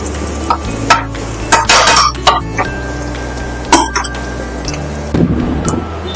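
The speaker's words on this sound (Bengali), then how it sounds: "এখানে আমি হাতা খুন্তি দুটো ইউজ করছি, যাতে নাড়তে আমার সুবিধা হয়, সব দিকে মশলাগুলো যাতে সমানভাবে ছড়িয়ে যায়" A ladle and spatula stir egg chicken noodles in a pan with clustered scrapes and metallic clinks over a light sizzle; someone coughs or clears their throat partway through.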